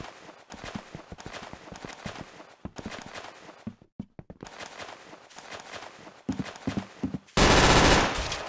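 Rapid gunfire from a first-person shooter game fills the mix, a run of sharp shots and bursts with brief gaps, ending in a loud, dense blast of noise.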